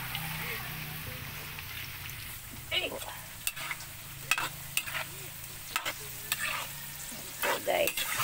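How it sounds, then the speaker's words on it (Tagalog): Carrots and potatoes fry in plenty of oil, giving a steady close sizzle with occasional stirring clinks and scrapes, and someone talks over it. "Iprito ko muna yung carrot saka patatas para madaling maluto."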